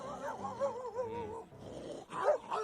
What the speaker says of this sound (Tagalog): Aso na yung tinatahol ngayon.